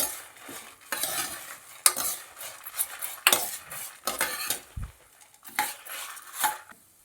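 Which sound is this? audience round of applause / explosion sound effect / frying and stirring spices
frying and stirring spices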